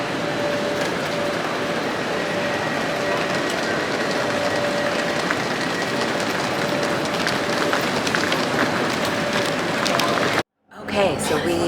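A train pulls out of Munich station bound for Venice: a steady, loud rolling rumble with rail clatter, heard from on board with a brief dropout near the end.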